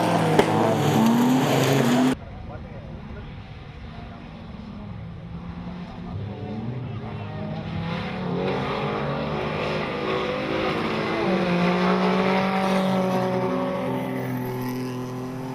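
A Mitsubishi Pajero Evolution and a Toyota RAV4 race car roar around a circuit, a loud engine blare that cuts abruptly to a quieter drone, then rising revs and shifting engine notes building again.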